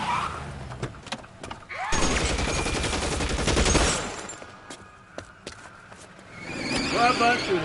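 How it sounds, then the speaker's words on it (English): Rapid bursts of gunfire from a drive-by shooting in the L.A. Noire video game, set in 1940s Los Angeles, with a loud dense volley in the middle over car noise and scattered shots before and after. "Drive-by shooting."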